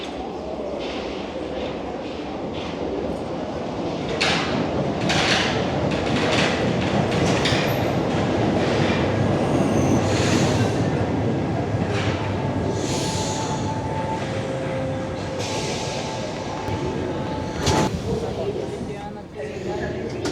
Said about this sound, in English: Now just wait 3 minutes for the next train.